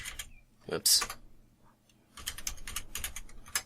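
Keyboard keys clatter in quick bursts while typing in Roblox Studio, the tapping moderately close and clear, with brief pauses between runs and faint voice-like sound in places.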